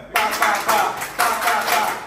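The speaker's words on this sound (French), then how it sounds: "Si elle vous a plu, applaudissez pour vous-même." Training session participants clap in a few rhythmic surges, loud and close, with each burst swelling and fading in a chant-like pattern.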